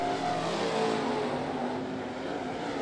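Pro late model race cars roar around Ponderosa Speedway in a heat race, a dense continuous engine drone with rising and falling revs from a pack of cars, loud and steady throughout with no talk.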